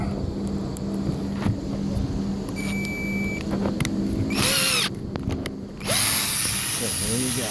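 A power drill drives screws during a skylight repair, with short whirring bursts, a louder buzzing stretch in the middle, and background noise between runs.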